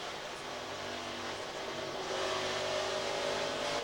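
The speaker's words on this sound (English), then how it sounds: "You can hear Sauter playing with the gas." NASCAR Camping World Truck Series race truck heard from onboard at O'Reilly Raceway Park in 2009 as the driver works the throttle, a steady droning engine note that rises and grows louder partway through, with no talk.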